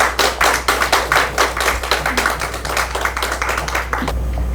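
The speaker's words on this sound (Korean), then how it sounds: "박수로 좀 힘을 실어주시기 바랍니다" Audience clapping to welcome speakers at a children's literature talk hosted by a Gyeongnam literary hall, a steady run of close, sharp hand claps from a small crowd that stops abruptly, leaving a low hum.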